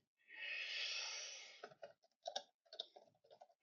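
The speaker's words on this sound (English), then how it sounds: "I'm going to type." Computer keyboard typing by someone working in translation software: a long soft hiss at first, then a quick run of irregular, close keystroke clicks that are fairly quiet.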